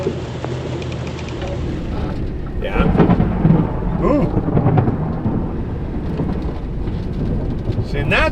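A lightning storm rolls over a vehicle driving through heavy rain, with deep rumbling thunder swelling loudly midway over a constant rush of rain and road noise, close and enveloping.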